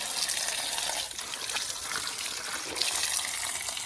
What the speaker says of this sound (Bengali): এখানে একটা পিভিসি পাইপ দিয়ে দেওয়া হয়েছে, এবং এই জল অবিরাম গতিতে একেবারে মিনারেল ওয়াটার